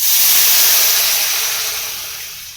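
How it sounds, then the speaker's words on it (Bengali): Water poured into a hot pan of roasted vermicelli, giving a loud, steady hiss of steam and sizzle that fades gradually over a few seconds, with no voices. "এবার আমি এর মধ্যে দিয়ে দেব জল"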